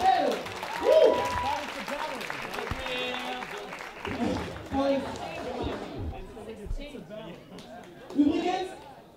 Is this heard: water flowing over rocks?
no